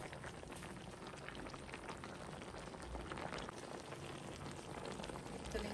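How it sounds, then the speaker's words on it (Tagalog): Coconut cream pours into a pot of crab and malunggay leaves for a Filipino coconut-milk stew, making a steady, bubbling liquid wash that fills the whole stretch at moderate level. "Buhos ko na rin. The coconut cream."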